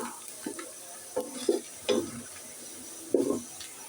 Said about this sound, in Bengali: পেঁয়াজটা আর একটু হালকা বাদামি হয়ে আসলেই আমি মাংসটা ম্যারিনেট করে রাখা মাংসটা দিয়ে দিচ্ছি